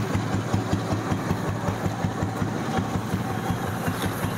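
A fully restored 1990 Bullet motorcycle idles at low speed, its silencer giving off a steady, even beat of close, rhythmic exhaust thumps with no talking.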